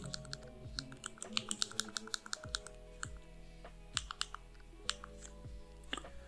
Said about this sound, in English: Now type here Express VPN.